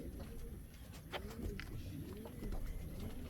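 Pigeons or doves coo softly in a loft, a few low rounded calls rising over steady background noise, with scattered thin chirps and no talking.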